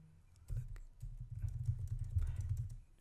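Typing an email subject line on a computer keyboard, a quiet steady run of soft close key taps lasting a few seconds, alone.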